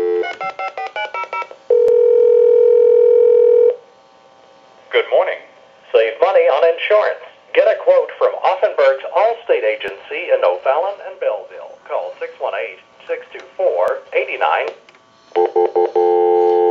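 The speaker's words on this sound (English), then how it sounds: "I'll give you some dial tone." A steady dial tone sounds on a repaired Spirit of St. Louis novelty telephone, then rapid keypad beeps dial a number, followed by more tones; a voice talks intermittently between them.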